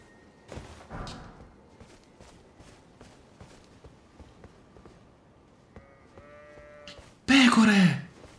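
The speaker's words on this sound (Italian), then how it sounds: "Pecore!" Sheep bleat loudly in Elden Ring, a sharp burst near the end after quieter footsteps, soft game sounds and brief tonal cues, with players chatting throughout.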